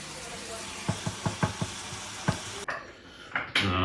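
Garlic frying in a pan for pasta with lardons, a steady sizzle under a series of light clinking stirs and knocks against the pan, then a sharper, louder burst of sizzling near the end.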